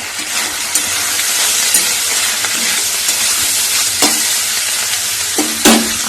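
Onions sizzle in a hot pan with steady crackling, broken by a few sharp scraping stirs of a spatula; no voices.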